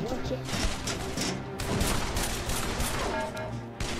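Gunfire rattles through a VR gun game match, rapid bursts of shots crackling almost nonstop, mixed with game noise and a player's voice over the top.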